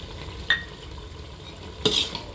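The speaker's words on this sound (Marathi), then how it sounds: "एकसारखं हलवून घ्यायचं आहे।" Masoor dal masala with chopped tomatoes stirred in a pan, two distinct spoon scrapes against the pan over a low background hiss, the second slightly louder.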